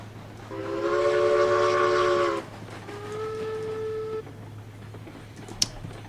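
A diesel F-unit locomotive working up a 4% grade sounds two long multi-tone horn blasts over a steady low engine drone, followed by a single sharp click.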